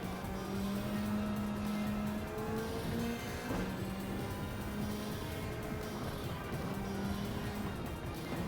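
Race car engine from the Gran Turismo video game: a steady, loud, droning motor with shifting revs and a whining tone, heard up close and continuous for several seconds with no talk.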